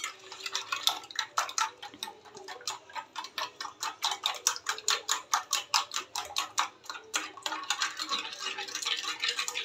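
A whisk beats cake batter in a bowl with quick, even strokes, roughly three per second. The scraping is close and steady and continues with no talk over it.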